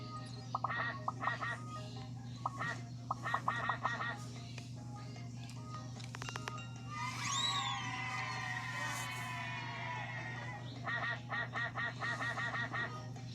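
Cartoon ducks quack and honk in a children's learning video game, with bursts of rapid calls, a rising whistle-like effect in the middle, and a steady electronic hum beneath.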